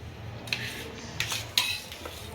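Cutlery and dishes clink as plates are filled with food at a family dinner of basket puri, a few light metallic taps over a steady low background hum.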